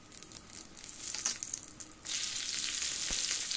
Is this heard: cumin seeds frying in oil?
yes